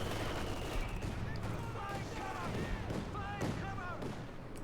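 Distant machine gun and artillery fire in the video game Company of Heroes 2, a dense, continuous rumble of shots under a voice talking throughout, with faint whistling tones above.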